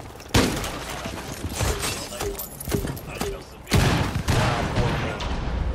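A grenade blast in Rainbow Six Siege bursts loudly, with shattering and crumbling debris from destroyed objects, followed by a second heavy impact and scattered breaking noises as voices talk over the chaos.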